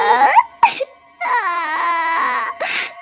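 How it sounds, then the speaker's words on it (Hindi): A woman cries loudly and close in a horror story sound effect, with sobbing wails broken by sharp gasping breaths. "मुझे अचानक किसी औरत के रोने की आवाज सुनाई पड़ रही थी"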